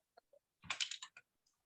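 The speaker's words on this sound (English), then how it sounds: "Oh, sorry, teacher's typing funny here." Teacher typing on a computer keyboard during an English lesson: a few isolated clicks, then a dense burst of rapid keystrokes and a couple of final taps, near and fairly quiet.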